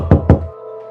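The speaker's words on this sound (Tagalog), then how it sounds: "may kumakatok sa pinto" Two sharp, close knocks on a door in quick succession, followed by a faint lingering ring and quiet.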